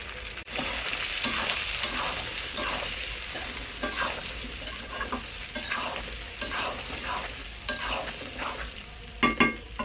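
Jujube pickle is stirred in hot oil, with steady sizzling and frying and repeated scraping strokes of a spoon against the pan, close and continuous with no talk.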